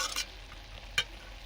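Bottle gourd curry with small shrimp cooks on low heat in a pan, giving faint, quiet stirring scrapes and soft sizzle, with a brief clink at the start and another about a second later.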